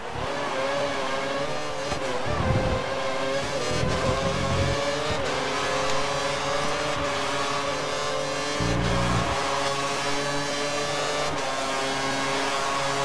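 Formula 1 race cars in the F1 2013 video game, Brazil race, roar continuously at close range with high-pitched engine whine and rising revs as one car slipstreams and overtakes another.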